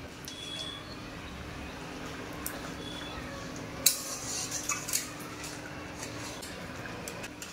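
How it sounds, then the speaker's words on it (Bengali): Light stirring of river fish curry in a pan, soft scraping and a few clinks of a utensil against metal over a low steady background, with the clearest taps clustered midway. "মাছ দেওয়ার পরে হালকা করে নেড়ে দেবো।"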